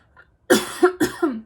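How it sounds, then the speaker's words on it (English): A person coughs twice, each cough a harsh burst with a short follow-up, close to the microphone after a brief quiet lead-in. "I'm going to cough."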